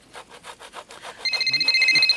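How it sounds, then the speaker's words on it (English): A telephone rings with a bright, warbling electronic tone in the latter half, following a run of rhythmic rubbing or scraping strokes, moderately loud and fairly close. "there's a phone ringing"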